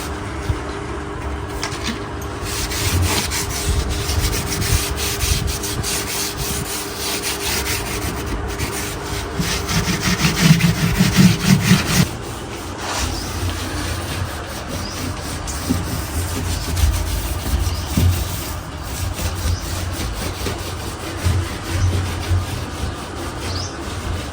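Diesel rubbed by hand onto worn wooden bed furniture in a rural Pakistani mud house, giving a continuous close scrubbing and rubbing noise with uneven swells and a louder stretch midway, with no talking.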